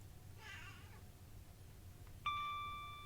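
A cat gives one short, fairly clear meow early on, followed moments later by a bright ringing chime that slowly fades.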